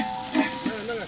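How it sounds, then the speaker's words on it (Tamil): Vada frying in hot oil gives a steady close sizzle with a couple of soft bubbling bursts over about a second. "ரெண்டு வடை இலையை மட்டும் போடுவோம்."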